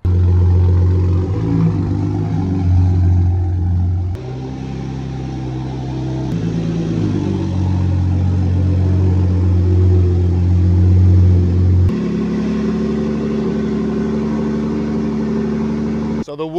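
A custom 2024 Ford Raptor truck on a 4-inch Fab Tech lift rumbles nearby with a steady low engine drone, shifting pitch as it pulls up.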